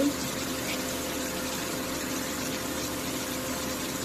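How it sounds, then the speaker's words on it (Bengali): Water poured into a cooking pot of taro stolons with fermented dried fish (chepa shutki) and crushed garlic; a steady, soft rushing flow that holds evenly for a few seconds, no talking. "পানি দিয়ে দিলাম।"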